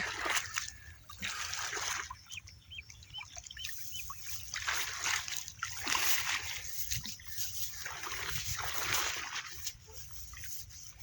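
Splashing and sloshing of pond water as a person wades in to pick water lilies (shapla) at the edge of a wetland, with trickles and bursts of disturbed water continuing throughout, birds faint in the background.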